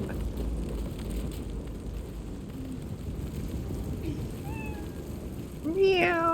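A cat in Baldur's Gate 3, a wild-shaped character, gives a few rising meows toward the end, the last one louder and clearer, over a quiet ambient game background.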